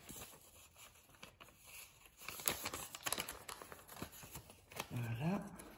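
Paper being cut in two with scissors, giving a run of crisp snips and crinkles, close and moderately loud, with a short voice at the end.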